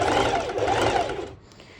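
A sewing machine runs a continuous straight stitch through bikini-top fabric, a steady close whir that holds then trails off near the end.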